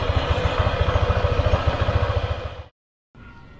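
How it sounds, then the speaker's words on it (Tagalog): A motorcycle's CVT transmission runs at idle with a low, rhythmic engine pulse and a mechanical clatter close by, cutting to silence near the end before returning faintly. "Pero normal lang yung tunog na ganyan sa CVT"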